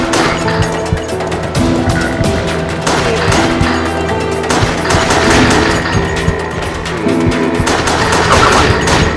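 Gunfire at enemies in Resident Evil The Darkside Chronicles, a loud, dense and continuous barrage of rapid shots and booms with no break.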